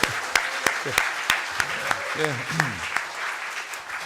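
Audience at a Korean policy seminar on plasma technology breaks into steady clapping, close and moderately loud, with voices briefly speaking over it.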